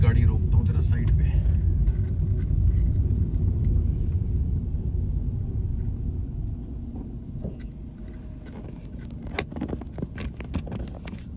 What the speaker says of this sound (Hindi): मैं अभी गाड़ी रोकता हूँ जरा साइड पे